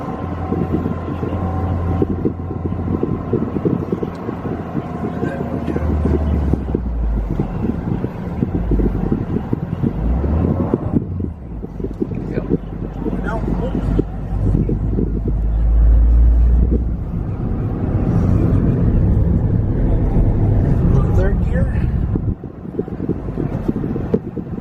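A manual 2024 Toyota GR Corolla pulls away in first gear, its engine droning low and steady under heavy wind rush, rising and falling with throttle over about twenty-five seconds.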